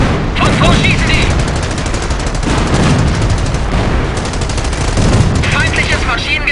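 Enemy machine gun fire in a WWII shooter game: continuous rapid bursts of automatic gunfire with booming impacts, loud and dense throughout, with voices talking underneath.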